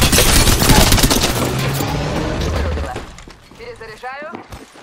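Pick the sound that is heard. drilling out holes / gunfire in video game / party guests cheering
gunfire in video game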